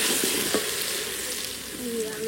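Fried onions sizzle steadily in hot oil as red chili and salt are added, a loud, continuous frying hiss with small crackles and a brief stir.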